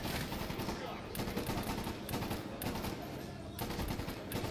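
Relentless heavy gunfire and rocket-propelled grenade blasts in Medal of Honor Warfighter's Somalia mission, with dense automatic bursts and booms filling the whole stretch at high volume.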